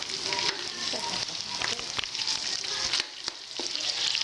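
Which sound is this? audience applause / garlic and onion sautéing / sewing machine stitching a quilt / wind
garlic and onion sautéing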